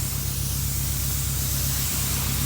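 Lanoguard underbody protection sprays onto a Subaru Forester STI SG9 as a loud, steady, close hiss that runs unbroken throughout.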